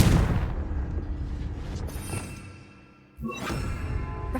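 Confringo spell blast in a wizarding video game, a deep booming burst that fades over a couple of seconds, then a second blast hits, close and full, with no talk.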